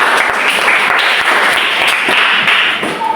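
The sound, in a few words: audience applauding a group of teachers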